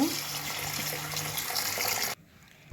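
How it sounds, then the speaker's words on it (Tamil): Baby potatoes are washed under a running tap in a kitchen, giving a close, steady splash of flowing water that stops abruptly near the end. "இந்த கிழங்கு எப்போ தண்ணி ஊற்றி நல்லா கழுவி எடுத்துக்கோங்க"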